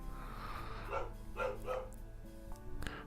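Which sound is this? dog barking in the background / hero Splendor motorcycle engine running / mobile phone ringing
dog barking in the background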